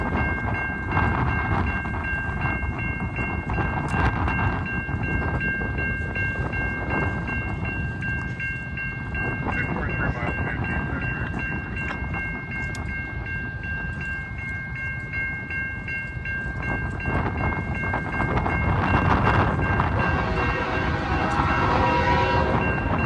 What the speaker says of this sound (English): get ready for a horn battle from these two trains